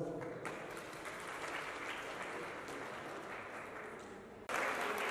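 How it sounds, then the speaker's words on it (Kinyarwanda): Audience applause at an official launch event, sustained clapping from a crowd throughout, swelling louder near the end, with no talk over it. "amashyi menshi cyane"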